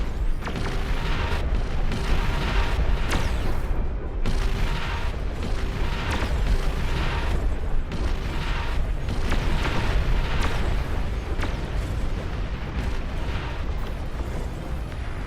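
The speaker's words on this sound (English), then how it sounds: "We got artillery now." Dense, continuous barrage of artillery fire and explosions from a large real-time strategy battle in Beyond All Reason, booming and bursting without pause and loud throughout, with no voices.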